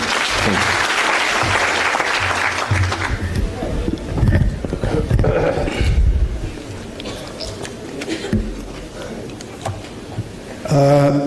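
Crowd applause rises and holds for several seconds at an outdoor farewell gathering for Mama Dorcas Ntimama in Narok, fading as a voice and background chatter take over, with a brief burst near the end.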